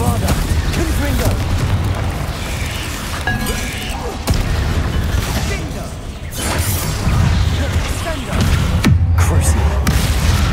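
Heavy magical spell blasts for Bombarda and Confringo boom and crash in rapid succession, with whooshes and rumbling debris, loud and dense throughout, mixed with shouting voices.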